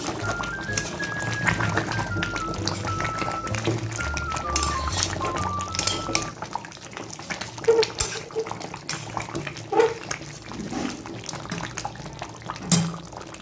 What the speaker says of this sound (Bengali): আমি এর মধ্যে কোনো রকম জল দিয়ে নিই